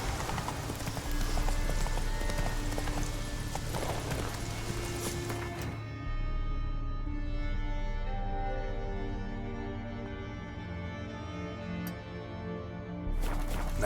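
Roach the horse galloping in Witcher 3: rapid, steady clip-clop hoofbeats close by, fairly quiet, with a brief pause and a game music bed underneath.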